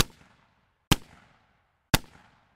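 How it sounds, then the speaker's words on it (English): Three sharp, close-up shotgun sound-effect blasts spaced about a second apart, each a loud crack that fades quickly into a short decaying tail. "I've got some up close shotgun sounds."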